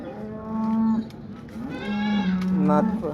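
A large cow at a livestock market in Modnimb moos twice nearby, a low drawn-out call followed by a longer second one, with faint background chatter.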